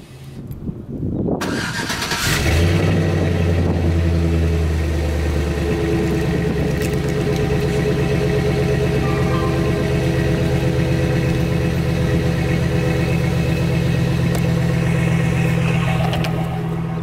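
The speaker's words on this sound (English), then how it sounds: "let's get a quick cold start from my factory exhaust system" A Chevrolet Silverado truck engine cold-starts, cranking and firing up, then settles into a loud, steady rumbling idle through a stock exhaust that continues for several seconds.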